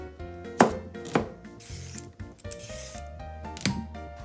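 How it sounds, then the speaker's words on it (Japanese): Carrot and onion are finely chopped with a knife on a board, a few sharp, close knocks spaced irregularly, with soft scraping between them under light background music. "まずは、野菜をみじん切りにします。"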